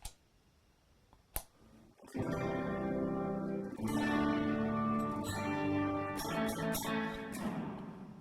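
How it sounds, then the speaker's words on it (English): Guitar chords played through a pedalboard with a subtle dynamic plate reverb and no delay, ringing notes that swell and sustain with a soft reverberant tail, heard alone without talk. "So for stage 1 of reverbs, I'm using a dynamic plate, and it's subtle"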